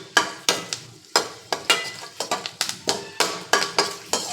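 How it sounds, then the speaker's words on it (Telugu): Spices crackle and pop in hot oil as a tempering for cucumber dosa pickle is fried on low heat, giving a fast, irregular run of sharp close crackles with a steady sizzle under them. "బాగా చిటపట్టలాడాలి. చిటపట్టలాడితే తాలింపు మంచి వాసన వస్తుందండి."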